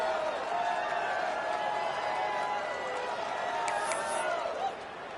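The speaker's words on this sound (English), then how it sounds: "this crowd is buzzing after that last score" Stadium crowd in the College Football 25 video game buzzing steadily after a score, a dense continuous murmur of many voices at moderate level that dips slightly near the end.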